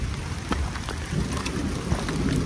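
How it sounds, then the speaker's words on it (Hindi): Heavy rain pouring steadily on a rocky hillside fort trek in open air, a dense continuous hiss of drops hitting stone and ground with low rumbling beneath, fairly loud and unbroken. "बारिश शुरू हो गया है काफी तेज"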